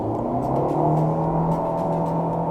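A 2018 Nissan Kicks SUV engine accelerates hard in short first gear, a loud, steady droning hum with layered harmonic whine that holds throughout, with no voices.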